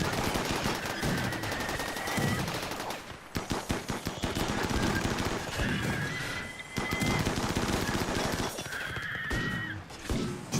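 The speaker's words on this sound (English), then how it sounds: "we want to shoot these guys that just obliterate us" Rapid machine-gun fire against raiders in the video game RimWorld, loud overlapping bursts with brief pauses between volleys and higher ringing tones over the shots.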